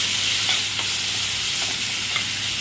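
Spice masala with coriander and cumin powder frying and being stirred in a pan for Garhwali palak dhapdi, a loud, dense, continuous sizzle with faint stirring scrapes and no voices.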